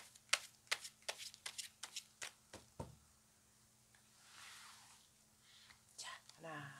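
Tarot cards are shuffled and drawn by hand in a run of crisp, close riffling snaps and taps, followed by softer sliding and dealing sounds, with a voice speaking briefly near the end.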